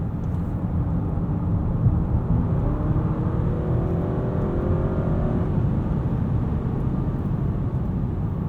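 A 2023 Honda Accord cruising around town, heard from inside the cabin as a steady, even drone of engine and road noise with a faint rising whine, no talk.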